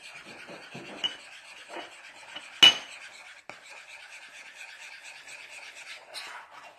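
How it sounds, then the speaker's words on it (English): Corn flour stirred through prawn stir fry ingredients in a pan or bowl, a steady scraping, rasping rub with one sharp clatter partway through, close and moderately loud with no talking. "that's just our corn flour being mixed in with the rest of our stir fry ingredients"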